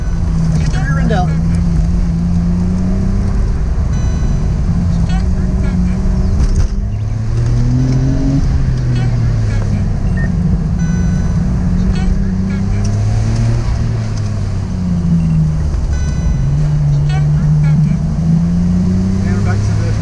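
Nissan Skyline R34 GT-R V-Spec engine droning and rising and falling in pitch while driving at speed, loud and continuous from inside the car, with people talking over it.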